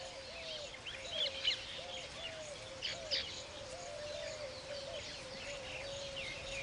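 A weaver bird calls near its nest with repeated short, chirping and twittering notes, some in bursts, over a steady outdoor background hiss.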